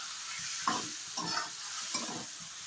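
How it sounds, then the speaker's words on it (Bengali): Ground turmeric, cumin, coriander and garam masala frying in hot oil, with a steady close sizzle and three distinct scraping stirs of a spatula spaced through the clip. "এবার মশলাগুলোকে আমি একটু নেড়ে চেড়ে নেব।"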